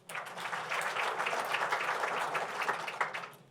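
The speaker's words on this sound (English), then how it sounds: "I know it's a bit tedious to clap all the time for all these people" Guests at a formal gala ball applaud the event's sponsors, a sustained round of many hands clapping that swells quickly and holds steady before tapering at the end.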